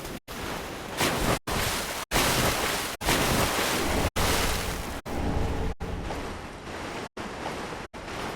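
Wading through knee-high water in Dark Souls 3, a steady rushing slosh with surf-like wash that breaks off in short gaps, close and fairly loud with no voices.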